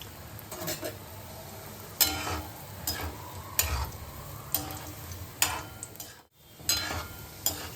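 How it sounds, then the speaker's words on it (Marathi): Gulab jamun fry in oil over low-medium heat with a steady quiet sizzle, broken by repeated light clicks and taps of a utensil stirring in the pan, all close by. "ब्राऊन होईपर्यंत व्यवस्थित हलक्या आणि मध्यम आचेवर तळूया"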